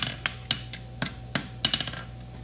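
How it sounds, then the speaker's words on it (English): Blacksmith hammer blows on horseshoe stock worked over an anvil horn while tongs push the bar: a run of sharp metallic strikes at an uneven pace, close and fairly quiet, with small ringing taps between them and no talk. "I'm pushing with my tongs and I'm pulling with my hammer right off the horn"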